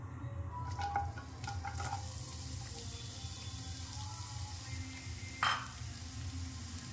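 Chopped onion frying in mustard oil in a kadai gives a steady, quiet sizzle, with a brief utensil clink partway through and no talking.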